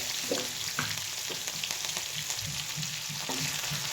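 Ground garlic and coriander hit hot oil where cumin and mustard seeds have already been tempered, for a dry spinach dish. A moderate, continuous sizzle carries faint stirring clicks and no voice.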